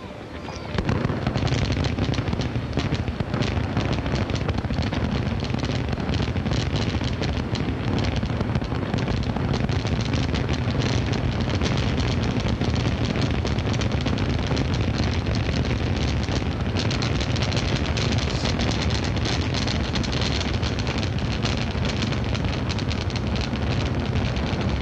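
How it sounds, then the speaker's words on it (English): A fireworks salute launched from river barges during the 1997 Thunder parade of barges roars in a dense, nonstop barrage of booms and crackling bursts that holds at full loudness for over twenty seconds. "already some fireworks that have thrilled the crowd, just a mini display"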